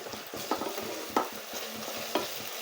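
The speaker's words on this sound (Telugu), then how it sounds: "మసాలా కూడా బాగా ఎర్రగా వేయించుకోవాలండి" Masala fries in a pan for chicken curry, sizzling steadily and close, with three sharp scraping stirs of a spoon cutting through the hiss.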